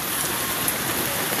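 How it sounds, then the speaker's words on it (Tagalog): Heavy rain pours down in a dense, steady broadband hiss of drops drumming on surfaces, loud and continuous with no talking. "napakalakas ng ulan"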